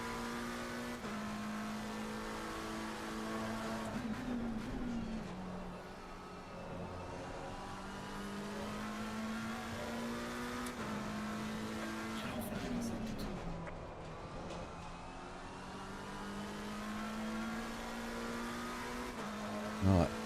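Race car engine in Assetto Corsa Competizione at Donington, a steady close drone that climbs through the gears, drops back on upshifts and rises again over about twenty seconds, with a voice talking over it.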